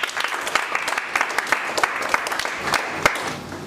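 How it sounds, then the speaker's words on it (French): A church congregation applauds and cheers for the Lord, steady clapping from a crowd indoors, moderately loud and continuous for a few seconds. "Est-ce que nous pouvons encore acclamer le Seigneur?"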